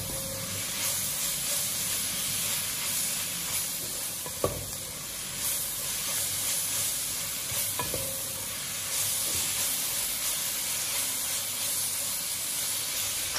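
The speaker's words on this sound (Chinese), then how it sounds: "继续翻炒，让辣椒入味" Green peppers stir-fried in a wok make a steady loud sizzle and hiss, with a couple of sharp scrapes and clacks from the spatula as they are tossed, and no voices.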